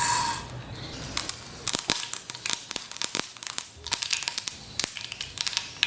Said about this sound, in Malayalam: കടുക് പൊട്ടി വന്നപ്പോൾ